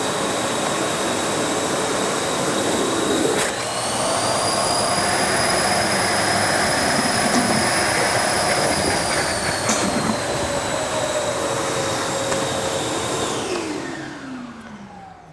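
A corded Milwaukee wet/dry vacuum runs loud and close, a steady roaring whoosh with a high whine that holds for about twelve seconds before winding down at the end, no voices over it.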